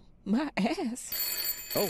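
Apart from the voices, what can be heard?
telephone ringing in the video game Layers of Fear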